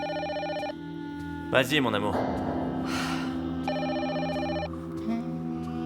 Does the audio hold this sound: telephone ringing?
yes